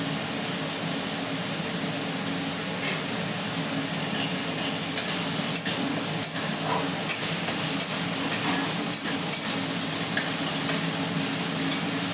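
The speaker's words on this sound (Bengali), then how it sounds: "দিয়ে মশলাটা আমি কষিয়ে নেব" Spice paste with turmeric and a little salt fries in oil alongside fish, giving a steady close sizzle, with spoon scrapes and stirring clicks growing more frequent in the second half.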